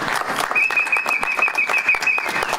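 A church congregation applauds during a worship service, giving a brief burst of steady clapping with a thin sustained whistling tone running through it.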